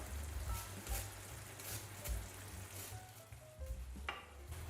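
Around 40 g of butter melting in a hot pan, with a steady close sizzle and frying crackle that carries on throughout with no talking.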